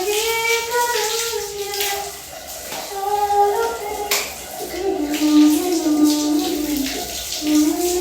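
Water running from a tap while feet are washed, a loud steady splashing flow with shifting tones as it hits skin and floor, continuous throughout.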